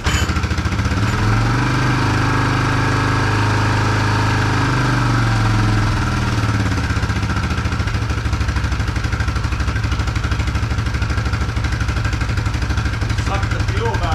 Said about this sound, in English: Just going to turn the idle up a bit more.